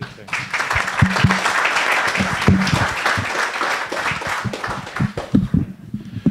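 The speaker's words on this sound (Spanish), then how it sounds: "Un aplauso, por favor." Audience applause at a Spanish university panel event on historical ruptures and continuities, steady dense clapping throughout with a few voices and louder individual claps mixed in.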